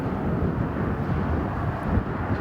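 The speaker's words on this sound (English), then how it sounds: "It's very windy today." Wind buffets a microphone outdoors near farm barns, a steady low rumbling roar that stays strong and continuous throughout, with no talk.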